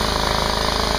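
A pipe dock drilling rig drills into rock on Somerset Island, a loud, dense, continuous rapid hammering clatter right up close.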